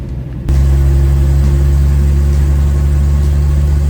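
A 1958 Chevy Apache truck engine drones loudly and steadily while driving, kicking in abruptly after a quieter moment and holding a deep, even rumble.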